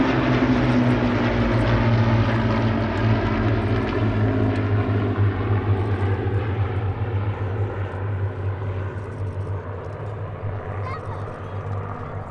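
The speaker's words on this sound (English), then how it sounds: "This was the largest formation of Hurricanes in the UK since the 1940s" A formation of Hawker Hurricane propeller warplanes passes over an airshow, a deep, loud multi-engine piston drone with strong droning tones that slowly fade as they move away.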